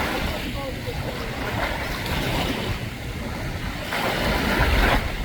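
Waves wash steadily on Mille Lacs Lake in Minnesota as a fishing boat passes, a continuous loud rushing surge with wind buffeting the microphone and people talking over it.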